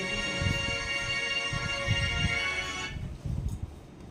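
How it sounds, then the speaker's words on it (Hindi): A mobile phone ringtone plays an electronic tonal melody for about three seconds before cutting off, moderately loud over low background rumble and soft handling noise. "हमारे घर से फोन आ गया था"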